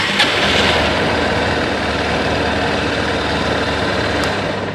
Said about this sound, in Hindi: जब आप इस बाइक को स्टार्ट करते हैं तो इसके सेल्फ से काफ़ी ज़्यादा नॉइज़ आता है